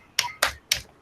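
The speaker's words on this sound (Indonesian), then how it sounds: "Kita tepuk semangat dulu ya" A class in a classroom does a rhythmic spirit clap: three sharp, close claps evenly spaced about a quarter second apart, with no talking over them.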